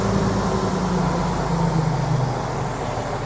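Fire engine pump engine throttling down at the pump panel, a steady broadband mechanical roar with low droning hum that eases slightly toward the end, no voices.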